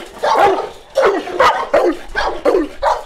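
A big Boerboel dog barks six times in a loose rhythm, each bark loud and close, with short pauses in between and no other sound around it.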